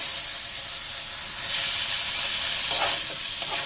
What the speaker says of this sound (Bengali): ভেজে রাখা আলু এর সঙ্গে আলুটা দিয়ে দেবো।